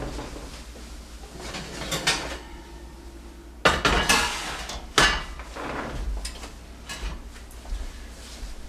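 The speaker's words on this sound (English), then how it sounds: "I'm going to bring the Dutch oven out. We're going to take the dough that's been rising for a little over 2 hours, and we're going to drop that in there." A hot cast iron Dutch oven is handled and bread dough that rose for over two hours is dropped in. Close metallic clanks and scrapes, with a sharp lid knock midway and another soon after, over a quiet kitchen hum.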